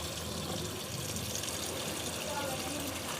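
Tap water runs steadily into a bowl where seedless grapes are soaked and rinsed, a continuous close gushing wash throughout.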